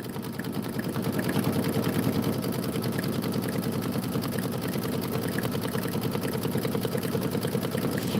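An embroidery machine stitches out a tile design, a continuous steady hum with fast rhythmic needle pulses, moderately loud and uninterrupted throughout.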